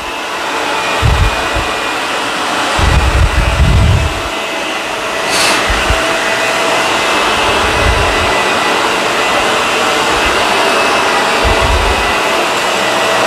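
A loud Shark Rotator vacuum cleaner runs steadily at close range, with low thumps and surges as it is pushed across carpet.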